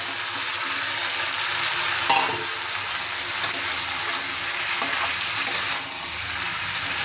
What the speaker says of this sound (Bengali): মশলা আলু কষিয়ে নেওয়ার পর এখন আমি দিয়ে দিচ্ছি কেটে রাখা লাউ।